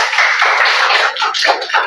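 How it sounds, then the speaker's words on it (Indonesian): Classroom applause for a student, a steady burst of many hands clapping close by, dense and continuous without talk. "Tepuk tangan dulu untuk Aurel."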